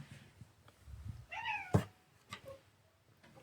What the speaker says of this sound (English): My cat decided to walk all over the filming area.